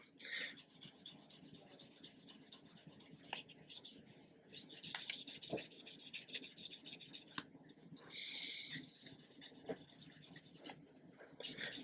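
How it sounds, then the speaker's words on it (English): A plastic part of an Airfix 1/72 B-17G model kit is sanded by hand in close, rhythmic bursts of raspy rubbing, separated by brief pauses. "let's sand that one back"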